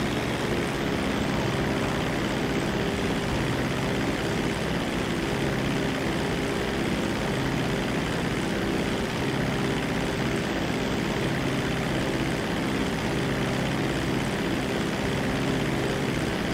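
A propeller airplane engine in a video game drones steadily and evenly for the whole stretch, a constant close hum with no voices.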